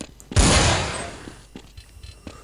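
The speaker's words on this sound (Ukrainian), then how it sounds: "Граната! Граната!" A grenade goes off in Counter-Strike 1.6 with a sudden loud blast followed by a decaying rumble, then a few faint thuds and clicks of game activity.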